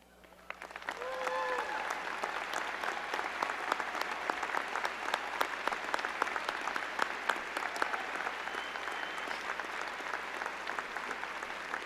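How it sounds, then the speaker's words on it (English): A school celebration audience gives a sustained round of applause for standing faculty and staff, steady crowded clapping that rises quickly after a short quiet start and carries on evenly, with a few voices mingled in. "Would the faculty and staff please stand so we can give you the round of applause you've all earned"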